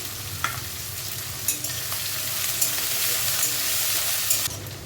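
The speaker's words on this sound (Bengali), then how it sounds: "এটা দিয়ে নাড়াচাড়া করব। তার সাথে আমি দেব কয়েকটা চেরা শুকনো লঙ্কা" Split dried red chillies and garlic cloves frying in oil in a pan at home, stirred with a spoon: a steady close sizzle runs throughout, with occasional sharp scrapes and clinks of the utensil against the pan.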